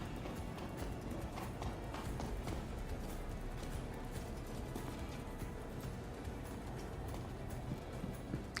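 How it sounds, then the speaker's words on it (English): Footsteps in the space game Star Citizen tap out in a rapid, steady rhythm throughout, moderately loud over a dense, constant background hum. "Are those my footsteps I can hear?"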